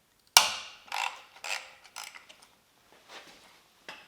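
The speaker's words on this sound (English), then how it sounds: "Grab a nice big ratchet, this is a 22mm bolt." Large hand ratchet loosening a 22mm adjustment bolt on a TD42T engine, giving a sharp initial crack followed by a series of close, dry clicking pulls that fade toward the end.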